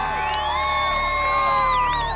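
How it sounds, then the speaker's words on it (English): A crowd celebrates outside Ted Bundy's execution, cheering and whooping with long wavering horn-like tones, loud and continuous for a brief moment. "Cheering, blowing of horns, celebration"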